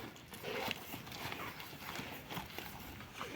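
A mare's hooves clip-clop steadily at a walking pace on a hard surface, close and continuous, with a little faint background noise.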